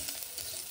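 Masala rice is stirred in a pan over low heat, a brief soft sizzle with a light scrape and a small clink at the very end.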